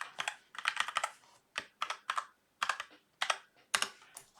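Password being typed on a computer keyboard during a terminal software update, a close, crisp run of keystroke clusters in quick bursts with short pauses, no talking.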